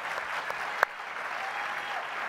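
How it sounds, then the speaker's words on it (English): Audience applause at a BlizzCon panel, a steady wash of clapping from a crowd in a hall, fairly distant and moderate in level, with one sharper clap standing out partway through. "I want to give a round of applause to our artists here."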